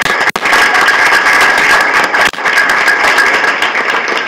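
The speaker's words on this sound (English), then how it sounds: "That in itself obviously deserves a round of applause for all of you." Sustained applause from a crowd at a school board meeting, a dense, steady wash of clapping that runs loud throughout, with two brief dips.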